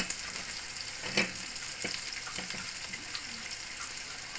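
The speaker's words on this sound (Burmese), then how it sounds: "ပြီးတော့လွတ်နေတဲ့နေရာမှာခုနကပြုတ်ထားတဲ့ဒီအာလူးလေးတွေကိုကြော်ပေးပါမယ်" Boiled potatoes frying in a pan beside Japanese-style beef steak, a steady close sizzle with a few sharp pops and crackles, no talking.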